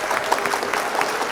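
Studio audience applause for three quiz teams reaching the quarter finals of a Hindi student quiz competition, a steady dense clapping wash at moderate level with no voices over it.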